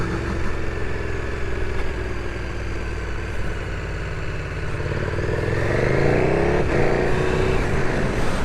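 A 2019 KTM Super Duke R engine riding through town with quick shifter and auto-blipper, a loud continuous rumble whose pitch rises and shifts between gears near the end.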